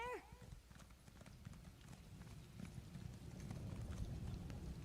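Horse galloping in the video game Elder Scrolls Online, a steady rapid clip-clop of hooves that grows slightly louder over the clip, with a voice speaking briefly at the start.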